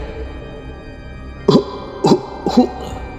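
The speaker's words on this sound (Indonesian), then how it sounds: "terdengar lagi suara batuk nenek-nenek itu" Three short, raspy coughs from an old woman, spaced about half a second apart, close by, over a quiet background hum.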